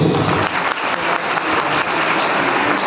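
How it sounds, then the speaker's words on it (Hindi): An audience at a stage show applauds loudly and continuously, many hands clapping in a dense, steady roar of claps with no talk over it. "इनके लिए बहुत जोरदार ताली होनी चाहिए।"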